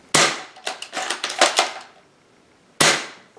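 An M62 airsoft sniper rifle makes a sharp close snap, then a quick run of clacking mechanism clicks, and a second loud crack follows after a short gap.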